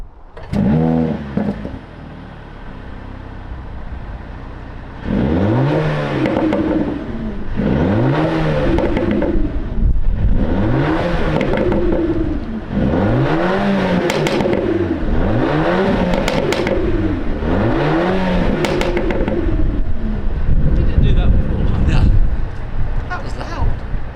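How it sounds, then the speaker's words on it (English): A 2023 Mercedes-AMG A35 starts up in Sport Plus mode, with a burst of engine noise followed by a series of rhythmic revs rising and falling, then a steady, loud idle with crackles. "Let's turn the car on, put it in Sport Plus, and see what it sounds like."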